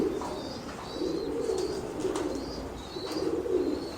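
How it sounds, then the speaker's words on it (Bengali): Fancy breeding pigeons coo repeatedly on a large pigeon farm in Bangladesh, soft rolling calls rising and falling over a faint background, with an occasional chirp and wing flutter. "এগুলো তার ব্রিডিং কবুতর যেগুলো আমি দেখাচ্ছি"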